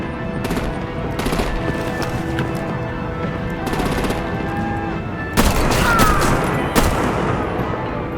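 Rapid machine-gun fire and heavier artillery blasts in the Batman: The Enemy Within game, with bursts of shots rattling through the scene and a louder barrage near the end, over sustained battle noise.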